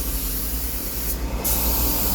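A painter's paint spray gun sprays steadily at close range, giving a constant loud airy hiss with a brief dip in the highest part midway.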